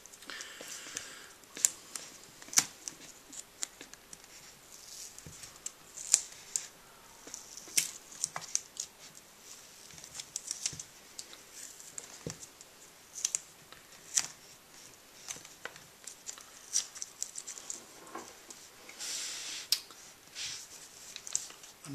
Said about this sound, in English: So let's take this tape off.